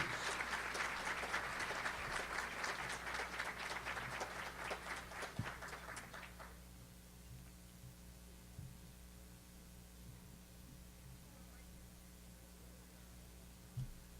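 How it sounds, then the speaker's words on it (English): A Hall of Fame induction ceremony audience applauds for past inductees in a fairly distant, moderate burst lasting about six seconds, then stops abruptly, leaving a steady electrical hum and quiet room tone. "Let's have a round of applause for these past inductees."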